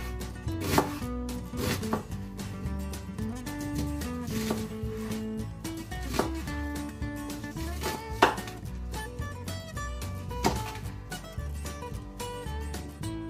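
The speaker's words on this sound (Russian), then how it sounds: "Лук режем на не толстые полукольца" Onion is sliced into thin half-rings with a knife on a cutting board, a close, steady run of crisp chopping knocks in a quick regular rhythm, continuing throughout with no talk.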